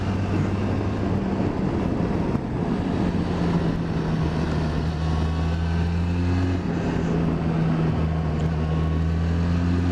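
A Benelli 502 TRK motorcycle engine runs steadily in a low, rumbling drone with gear-like pitch steps, loud and continuous, with no talking.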